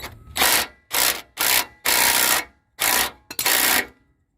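Wrench work loosening the nut on a front shock absorber of a 2003 Chevy Silverado 2500HD: six rapid scraping, ratcheting bursts with short pauses between them, close and fairly loud, with no talking.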